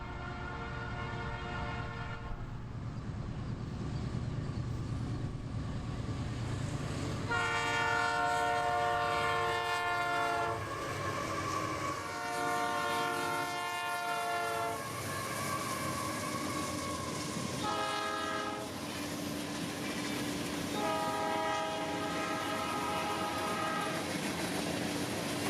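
Norfolk Southern locomotives roll past on a single-track main line in Kentucky, sounding a series of loud, repeated chorded horn blasts over a continuous rumble of engines and rail noise.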